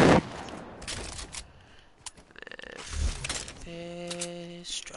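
Fortnite gunfire crackles in sharp bursts and rapid volleys with shattering impacts, interspersed with game effects and brief tonal beeps, loud and close throughout.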